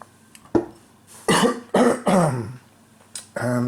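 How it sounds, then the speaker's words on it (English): A person coughs and clears their throat several times during a solo board game session, a few harsh close bursts separated by short pauses, ending in a throaty grunt, with no speech. "And I try not to cough to death."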